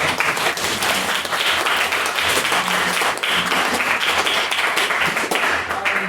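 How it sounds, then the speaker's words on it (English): A room full of people applauding steadily, dense clapping that holds at an even, fairly loud level throughout with no voices on top. "So a round of applause for all."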